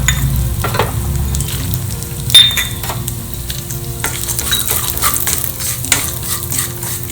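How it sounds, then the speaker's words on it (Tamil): Cashews, almonds and pistachios are stirred in hot ghee in a pan, giving a steady sizzle with repeated scraping strokes and an occasional sharp clink of the spoon against the pan. "நம்ம வந்து நெய் விட்டுட்டு அந்த முந்திரி, பாதாமெல்லாம் வறுத்து எடுத்துக்கலாம்"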